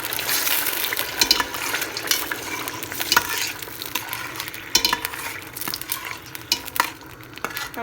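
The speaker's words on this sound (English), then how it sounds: "I'm going to fry these tomatoes until it is dried." Blended tomatoes and onions fry in a pot for Nigerian egusi soup, a steady close sizzle broken by repeated scraping stirs of a spoon.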